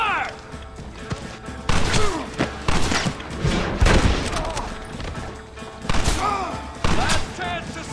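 Gunfire in the Western video game Red Dead Redemption, a dense fusillade of rifle and pistol shots with heavy thuds, repeated bursts close and loud across the scene, with shouting voices mixed in.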